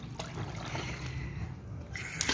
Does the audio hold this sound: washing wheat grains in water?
yes